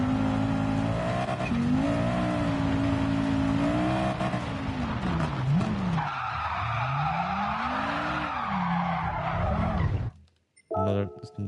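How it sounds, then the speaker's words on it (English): Tyres skid and squeal under a Porsche 919 hypercar's engine in a racing video game, a loud, wavering, continuous screech rising and falling for about ten seconds before cutting off abruptly, followed by a brief burst of sound. "I think you can even hear my wheel vibrating."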